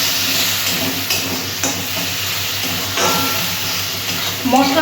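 Spice masala with Kashmiri chilli powder sautéed and stirred in hot oil for a shingi fish curry, a steady sizzle with scraping stir strokes close by, a faint voice breaking in briefly.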